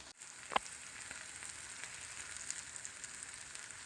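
Onions cooking down in a pan with lime, honey, chili and pepper give off a steady, quiet sizzle, with a soft knock near the start and no voices.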